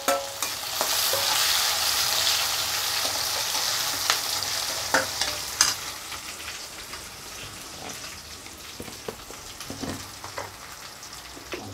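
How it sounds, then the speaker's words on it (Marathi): Onions stir-fried in a pan for a mixed-sprout usal bhaji, giving a steady close sizzle with scraping stirs and ladle taps throughout, slightly louder at first and then settling into a softer fry. "त्याला चांगलं परतून घेऊ। कांदा लाल झाल्यानंतर आपण त्यात टमाटे घालू।"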